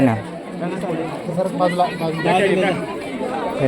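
Dense crowd chatter at a busy vegetable market lane, many overlapping voices murmuring and calling out close by, steady and continuous without pause.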